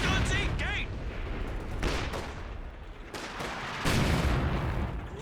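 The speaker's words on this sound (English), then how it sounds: "Scott Barrage not hitting too much." Artillery barrage from an M8 Scott in the World War II strategy game Company of Heroes 2, with dense overlapping booms and gunfire rumbling steadily throughout, swelling at a few points, all under a continuous mix of battle noise.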